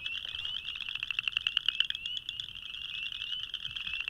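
A frog calls with a rapid, high-pitched pulsing trill, loud and close, repeating steadily over quiet background noise.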